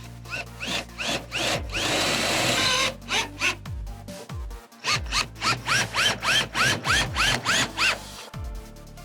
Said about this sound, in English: they can be fixed back to the stud using an impact driver or drill